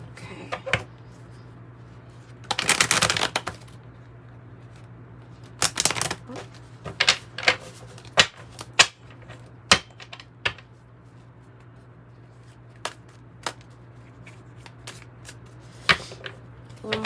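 Tarot cards being shuffled by hand, with irregular bursts of riffling and soft slapping of the deck over a quiet steady hum, close and fairly clear, with no talk.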